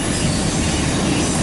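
A loaded CSX autorack freight train, Q276, rolls past eastbound close by, giving a loud, steady rumble of wagons and wheels with faint rail squeal throughout.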